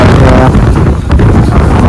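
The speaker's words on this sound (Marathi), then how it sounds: "इतका प्रचंड वारा आहे ते की माणसाला तो मागे ढकलतो." Strong wind on a hilltop fort at Gaganbawada buffets the microphone with loud, continuous roaring gusts, deep and close, with a brief dip midway.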